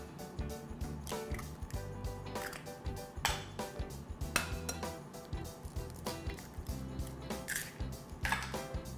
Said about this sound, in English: Let's mix some eggs in.